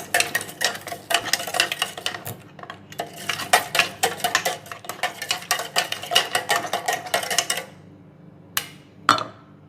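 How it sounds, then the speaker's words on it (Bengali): A spoon stirs lassi in a glass, clinking rapidly and rhythmically against the sides for several seconds, close and fairly loud, then stopping with a few isolated taps after a short pause. "একটু এটাকে নাড়িয়ে নেব চামচ দিয়ে"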